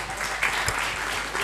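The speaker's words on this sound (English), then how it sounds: "Please carry this with her thunderous applause." A conference audience breaks into sustained clapping, a dense even wash of applause throughout the short stretch with no voices over it.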